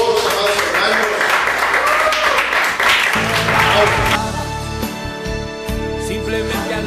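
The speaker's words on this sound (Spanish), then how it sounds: "Un aplauso a nuestro Dios, amados hermanos." Congregation at a church worship service applauds, dense clapping mixed with voices and music through the first half, then giving way to sustained organ-like tones and singing as the applause thins out.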